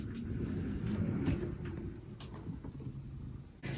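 A makeup drawer under a counter slides open as a low rumbling scrape lasting a few seconds, close by and moderately loud, ending in a soft knock.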